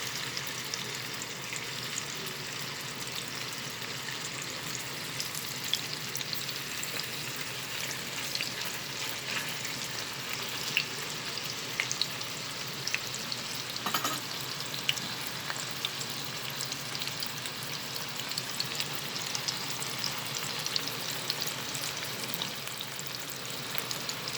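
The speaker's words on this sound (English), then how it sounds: "we can add them to the hot oil. This is just a shallow frying." Steady, crackling sizzle of meatballs shallow frying in hot oil, continuous and close up, with no talking.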